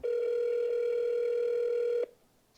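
A steady telephone tone hums without a break for about two seconds, then cuts off abruptly, leaving faint background hiss.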